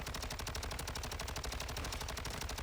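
Rapid automatic gunfire from a Call of Duty Warzone battle royale gunfight, a dense continuous stream of shots that stays loud and steady throughout with no break.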